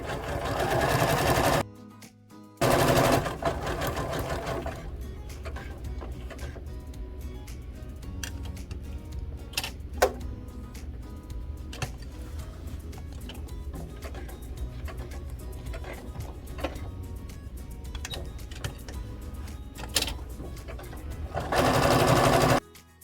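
Sewing machine stitching appliqué, its loud rapid motor whir running in bursts at the start and end, with quieter ticking and small mechanical clicks between as stitches are locked and threads cut.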